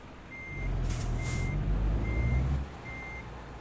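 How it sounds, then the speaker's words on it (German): In the game Euro Truck Simulator 2, a truck backs up with its reversing alarm giving four evenly spaced beeps over a low engine rumble, followed by a brief hiss of air brakes. "Ach, jetzt fährt er auch noch zurück, ey."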